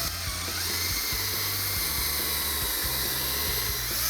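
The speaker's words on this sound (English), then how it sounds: "And you're gonna drill halfway through." A power drill whines continuously at close range, its motor pitch wavering slightly as it bores steadily halfway through wood.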